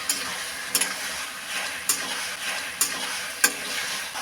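Green chilies hit a pan of frying taro greens in a vegetarian Bengali dish, giving a steady close sizzle with a few sharp clicks of a spoon stirring, with no talking.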